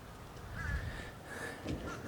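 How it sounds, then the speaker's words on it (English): Crows gathering in Florida ahead of an approaching storm, giving a few hoarse caws, some drawn out, at a moderate distance against a faint outdoor background. "Get the birds gathering."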